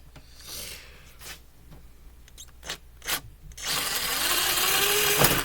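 Tight screws are worked loose on a Mainstays SFC-225BR1 box fan: short scraping, rasping twists separated by pauses, then a longer, louder grinding turn close to the microphone.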